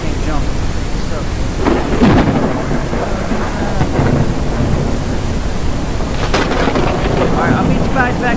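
A thunderstorm in the game Mist Survival, with heavy rain hissing and rolling thunder cracks, loud and close, while voices talk faintly underneath.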